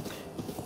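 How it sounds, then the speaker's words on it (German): Horses' hooves clip-clop at a stable in the video game The Legend of Zelda: Breath of the Wild, a few quick soft hoof knocks, faint and brief. "Da sind ganz viele Pferde."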